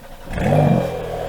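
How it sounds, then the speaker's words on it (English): A brand-new Porsche 911 Carrera GTS (992) engine cranks and catches on a cold start, rising to a steady low rumble that settles into a quiet idle. "I've got the keys to a brand new Porsche 992 GTS. And I'm gonna do a cold start."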